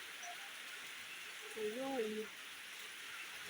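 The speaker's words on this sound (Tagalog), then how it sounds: "Sa labas ng bahay namin kung ano kalakas yung ulan." Heavy rain from Typhoon Kristine pours outside a house near a mountain, a steady dense hiss that goes on throughout. A person speaks briefly partway through.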